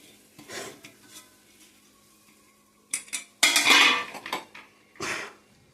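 Raw mango thecha, a coarse Maharashtrian chutney, mixed in a pan with a spoon: scattered scraping and clinking strokes, louder in bursts toward the end, with quiet gaps between.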